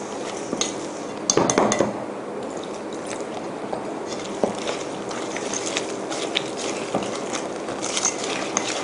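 Thai fried banana batter is stirred in a bowl while cold water is gradually added, giving light, irregular clinks and scrapes of a utensil against the bowl.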